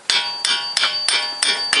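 A heavy-duty hammer strikes the central drive shaft nut of a Toyota Corolla during gearbox removal, six loud, close metallic blows at an even beat, each ringing briefly before the next.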